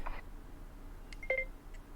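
A phone dialing sequence plays faintly: two short electronic keypad tones close together, with a few soft clicks and beeps around them over a quiet background.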